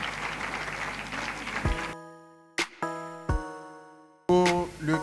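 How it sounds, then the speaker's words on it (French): A burst of crowd clapping for two high school teams at a quiz competition lasts a couple of seconds, then gives way to a few bright, ringing musical notes. "On applaudit les deux équipes."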